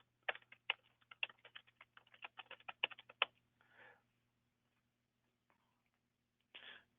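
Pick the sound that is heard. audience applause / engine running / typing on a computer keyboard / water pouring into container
typing on a computer keyboard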